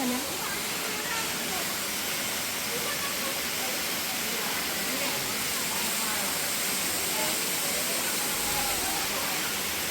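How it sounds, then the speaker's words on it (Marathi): A waterfall at the Ambarrishi temple site pours in a continuous broadband rush, steady and fairly loud throughout with no breaks. "तुम्ही बघू शकता धबधबा किती छान असा वाहत होता"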